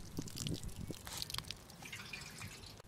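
Water soaking the soil around a newly planted zinnia, a steady close dripping and trickling with small splashes running continuously throughout.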